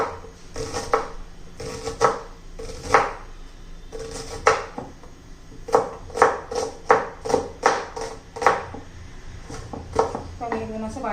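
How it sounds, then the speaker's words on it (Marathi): Knife finely chopping onion on a board in a home kitchen, with bursts of quick rhythmic cuts separated by short pauses, close and fairly loud. "तर आपण कांदा चिरून घेऊया. बारीक कांदा चिरायचा आहे."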